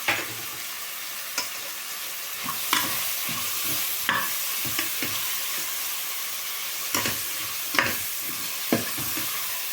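Spices with coriander powder sizzle steadily in a hot pan for vegetable biryani, with sharp clinks of a spoon stirring at irregular intervals.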